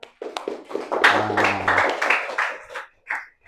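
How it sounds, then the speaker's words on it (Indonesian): Brief clapping from a small classroom group at a university teaching session, scattered taps over a low hum and some talk, fading out with a final burst. "kasih tepuk tangan"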